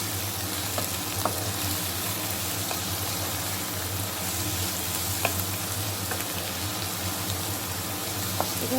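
Vegetables, drumstick stems and fish get mixed with turmeric in a frying pan for a moka fish chochori, giving a dense, even sizzle like light rain with a few faint clicks of a stirring spoon.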